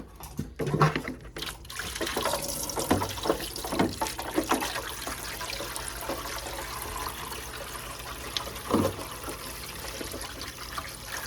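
Water runs and trickles steadily into a sink as pottery tools are rinsed, with occasional clinks and handling bumps over the flow and no speech.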